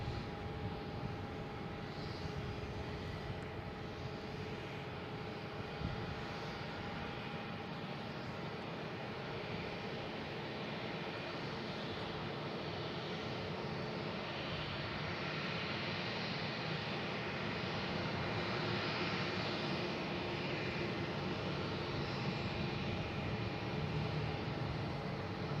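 A Spirit Airlines Airbus A320 arriving from Orlando at Boston Logan gives off a steady, faint, distant engine drone with a few tonal hums, unchanging throughout and with no voices.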